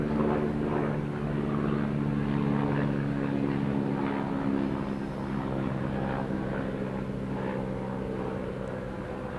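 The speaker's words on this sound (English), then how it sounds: "That one's probably because of the helicopter that's gone right overhead" A helicopter passes overhead at a croquet match, giving a loud steady rotor and engine drone with strong low harmonics that holds throughout and eases slightly toward the end.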